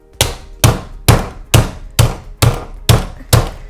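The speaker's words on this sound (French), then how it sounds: "Je positionne ça au milieu et je me munis d'un gros marteau." A large hammer strikes eight times at an even, steady pace, each blow a sharp, loud thud that smashes material inside a sturdy bag into small chips, with no voices.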